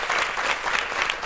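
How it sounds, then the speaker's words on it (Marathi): A group claps loudly and continuously during a classroom-style talk on waste management, dense, even applause filling the whole moment with no voices. "एकदा जोरदार टाळ्या"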